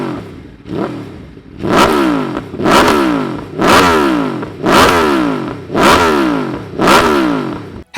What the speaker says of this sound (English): Listen to this exhaust clip we got of the RSV4 we rented for a video.